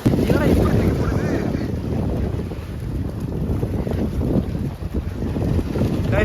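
A boat pitching hard over big sea waves on a day trip near Thrissur, with steady heavy wind buffeting the microphone and a constant rushing water roar throughout, close and loud.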